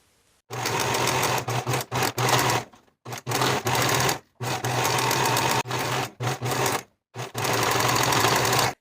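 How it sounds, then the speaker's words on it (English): A sewing machine stitches blouse facing seams in a series of steady whirring runs, each lasting one to two seconds, separated by short pauses, close and clear with no talking. "Sew both seams with a 1/2 inch seam allowance and press the seams open."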